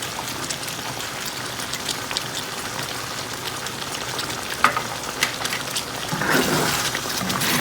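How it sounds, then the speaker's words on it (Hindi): Beaten yogurt poured into a karahi of hot butter, a dense crackling sizzle with scattered pops, swelling louder near the end as it spreads, no voices. "अब हम कढ़ाई में योगर्ट डाल देंगे।"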